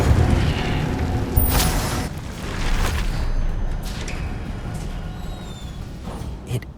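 Incendio fire spell cast in Hogwarts Legacy: a loud whooshing burst of flame with crackling, roaring bursts that flare and fade, followed by softer fiery rumbles and a final small pop.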